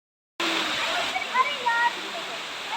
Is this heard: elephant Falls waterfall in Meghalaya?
yes